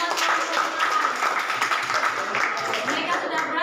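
A classroom of students clapping for classmates who presented their group work, a dense, even patter of many hands filling the whole clip at close range.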